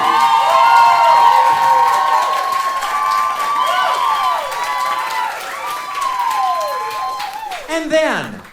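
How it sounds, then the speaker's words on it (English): Audience applause and cheering at a live Broadway musical cabaret show at 54 Below: loud, steady clapping with whoops and shouted voices riding on top, fading slightly before a final burst of cheers. "If this is our Phony Award winner, please applaud"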